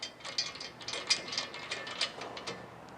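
A ratchet tightens a nut and bolt on the lift arm of a drum mower, giving a quick run of small, crisp metallic clicks in an uneven rhythm, close by and fairly quiet.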